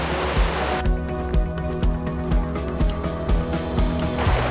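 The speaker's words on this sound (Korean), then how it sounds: "여기가 쌍곡 폭포인데요 와 진짜 볼만한데요" Steady rushing roar of Ssanggok Falls on Chilbosan, South Korea, in winter fills the clip, a continuous broadband wash with some rhythmic thumping noises layered over it.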